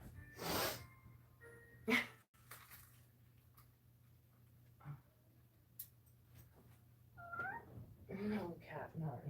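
A house cat meows several times, short close calls scattered through a quiet room, with a sneeze-like burst early on and a person talking briefly.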